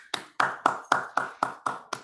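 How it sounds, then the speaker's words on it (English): Eight sharp, evenly spaced claps from an audience at a club gathering, moderately near and fairly quiet, forming a slow rhythmic beat with no talking. "You can all give yourself a big round of applause"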